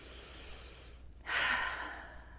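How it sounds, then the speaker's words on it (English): One big deep breath, a quiet lead-in followed by a strong, airy inhale rushing in near the mic, then easing off. "Big, deep breath."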